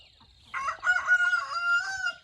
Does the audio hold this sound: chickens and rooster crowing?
yes